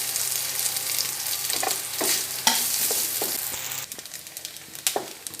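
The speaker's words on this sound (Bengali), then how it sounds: "এবার নারকেল কুচি ভেজে নিচ্ছি।" Coconut shreds fry in hot oil with dried red chilli and white cumin, giving a steady, close sizzle throughout, broken by repeated scraping spatula strokes against the pan and a few sharper knocks.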